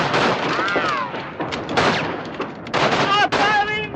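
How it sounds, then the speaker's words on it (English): Wartime gunfire rings out in bursts amid loud shouting voices, the shots partly buried under urgent speech. "Stop firing!"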